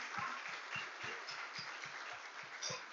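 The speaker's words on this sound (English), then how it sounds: "give yourselves a round of applause" Applause for residents at a swearing-in ceremony, heard as faint, distant clapping from a crowd with a soft repeating low thump beneath it, quiet throughout the short stretch.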